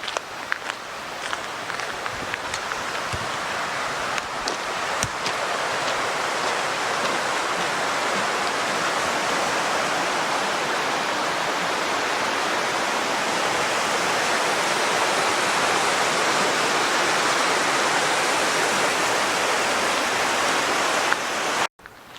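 A creek flows beside a bridge on a hiking trail as a loud, steady rushing wash of water that holds for over twenty seconds, with a few faint footsteps early on.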